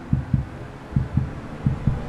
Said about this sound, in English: You hear that? Little heartbeat?